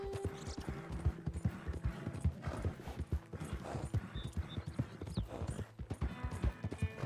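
Horse hooves clip-clop at a steady trotting rhythm in Red Dead Redemption 2 on PS4, close and fairly loud, with faint low ambient sound underneath.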